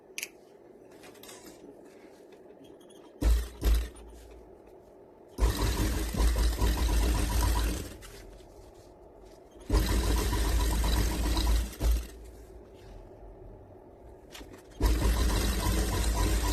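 Sewing machine stitching two pieces of fabric together for a farshi salwar, running in three loud, close bursts of rapid mechanical rattling separated by quiet pauses and a few handling clicks.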